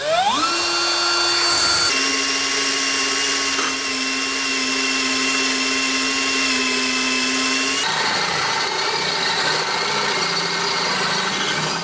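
A power drill whines loudly and continuously at close range, drilling pilot holes in a steel frame on a 2018 Newmar Bay Star motorhome, its pitch holding steady then shifting as the bit bites into metal.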